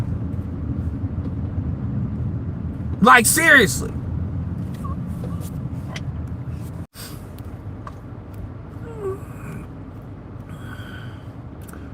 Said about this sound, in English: What the fuck kind of car is that?